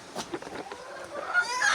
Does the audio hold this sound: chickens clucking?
yes